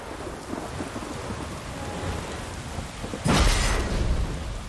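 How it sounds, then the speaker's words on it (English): Thunderstorm in The Witcher 3: steady rain hiss throughout, then a loud, close thunder crack bursts in near the end and rumbles on over the downpour. "The storm, damn it."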